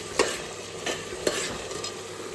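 Girnari khichdi is stirred in a pot on the fire, with three or four scraping strokes spaced about half a second apart over a soft, steady sizzle, close and fairly quiet, with no voices.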